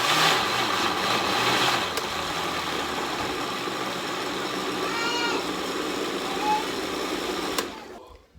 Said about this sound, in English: Now we're going to blend it.